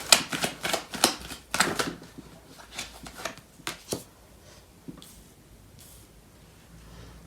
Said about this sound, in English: So I'm going to pull out more cards.